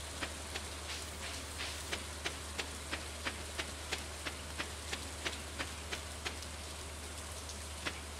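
Rain falling in Stardew Valley, a soft steady hiss with a regular ticking patter of drops and a low constant hum underneath, quiet and continuous.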